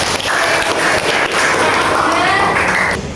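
A classroom audience gives steady, loud applause that runs through the whole stretch. Scattered voices and cheers mix into the clapping.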